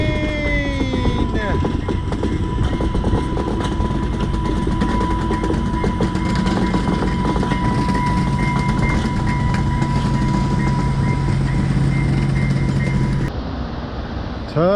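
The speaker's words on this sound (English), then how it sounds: "It's the train! The train!" A train passes close by, with a steady rumbling roar and rhythmic clatter of wheels on track, a sustained horn-like tone over the top, then cutting off abruptly near the end.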